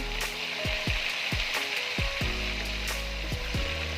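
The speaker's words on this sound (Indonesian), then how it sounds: "Kita cemplungin sama seperti goreng tempe tadi, secepatnya dibalik supaya nggak cepat gosong." Tofu pieces sizzle and fry steadily in hot oil for Indonesian tofu bacem, a constant loud crackle with repeated clacks of a utensil turning and moving the pieces.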